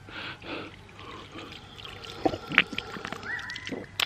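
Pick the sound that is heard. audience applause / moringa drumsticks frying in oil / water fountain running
water fountain running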